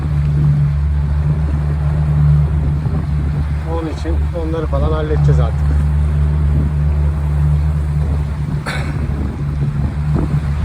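A boat engine drones steadily while the hull thumps through choppy waves, with someone speaking briefly in Turkish over the noise.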